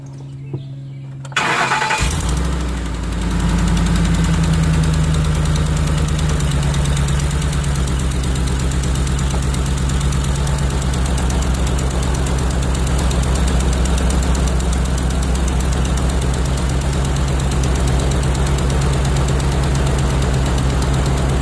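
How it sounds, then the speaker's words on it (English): A 2010 Ford F-150 engine cranks briefly, catches and settles into a loud, steady idle that runs on alone, close by, during work on a stuck front brake caliper. "I'm going to have to go in there and start the vehicle up and pump the crap out of it until this one frees up."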